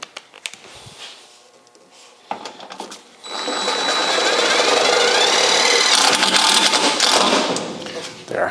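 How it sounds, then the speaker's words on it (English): A welder making small plug welds through holes in a car rocker panel on a 1974 Charger, a steady crackling buzz that starts after about three seconds and runs loud and continuous to the end, preceded by quieter clatter. "We're gonna put a couple of spot welds through the holes, or plug welds through those holes, just tiny ones,"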